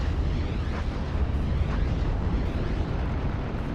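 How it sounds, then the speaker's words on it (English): Rocket strike explosions from an ME-109 G2 in Steel Division: Normandy 44, a heavy rumbling roar of blasts with low booming energy, loud and sustained with little break. "ME-109 G2 comes in with the rockets onto the 17 pounder."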